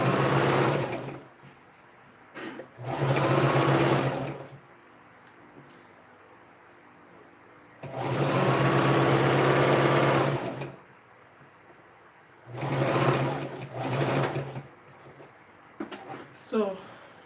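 A domestic sewing machine stitches the back panel of a princess dart dress skirt in four steady whirring bursts of about two to three seconds each, separated by quiet pauses, close and clear.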